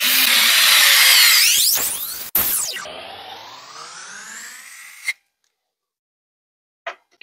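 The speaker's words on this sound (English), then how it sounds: "So I'm using the handheld screwdriver." A handheld electric screwdriver whirs loudly for about two seconds, then runs again at a steadier pitch for a few seconds before stopping, with two brief clicks after a short silence.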